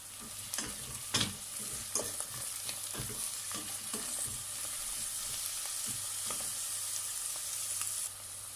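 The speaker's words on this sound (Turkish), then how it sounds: "Şimdi biberlerimi de ekleyerek kavurmaya devam edeceğim arkadaşlar." Peppers are sautéed with boiled black-eyed peas for an olive-oil dish, producing a continuous low sizzle. Regular scraping stirs sound close to the pan in the first half, then fade into steady frying.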